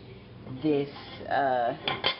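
A metal Dutch oven pot gets handled in a kitchen, with a few resonant clanks and scrapes against the stovetop and utensils, close and moderately loud with brief gaps between knocks.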